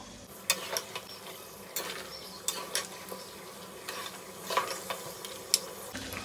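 Beef or goat trotters fry in spices, with a soft sizzle beneath repeated clacking scrapes of a spoon against the pot at an irregular rhythm, close by, with no voices.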